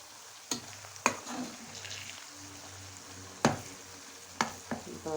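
A tadka of crushed chili and turmeric sizzles in a pan for sarson ka saag, a soft steady hiss broken by several sharp clanks of a spoon stirring against the metal.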